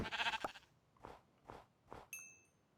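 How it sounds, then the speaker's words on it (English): A sheep in Minecraft gives one short, faint bleat, followed by a few soft, dull hit thuds and then a brief high chime, all quiet and without talk. "I'm killing the sheep"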